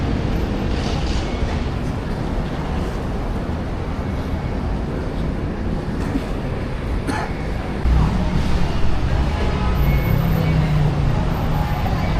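Steady low rumble of the Suvarnabhumi Airport train in Bangkok in motion fills the whole stretch, growing a little louder and heavier toward the end, with faint voices now and then.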